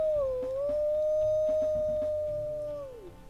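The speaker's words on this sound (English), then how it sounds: "Oh no, that might be the longest howl, actually." A wolf in the WolfQuest video game lets out one long, steady howl that dips briefly at the start and slides down at the end, loud and close over a soft background of game sounds.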